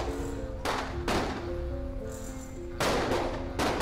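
Gunshots ring out close by in a tense drama scene, several sharp, loud cracks spaced irregularly over a few seconds against a low background hum.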